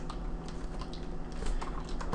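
Steady computer keyboard typing at close range, a quick run of dense key clicks over a faint background hum, with no talking.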